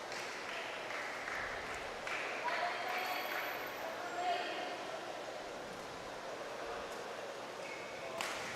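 Spectators applaud after a rally in the Philippine Badminton Open semifinals. The clapping is faint and distant, under a commentator's continuous talk, with a few light pings of play.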